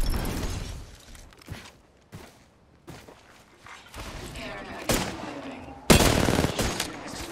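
Bursts of weapon fire in the battle-royale shooter Apex Legends, arena mode, irregular volleys with sharp cracks and impacts, growing louder toward the end, with a character voice speaking at times over the fighting.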